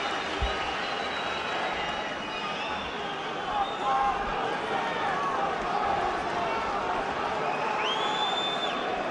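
A boxing arena crowd for Carl Froch vs Jean Pascal roars continuously, a dense, loud wall of cheering with occasional whistles and whoops rising above it, and a commentator speaking over the noise.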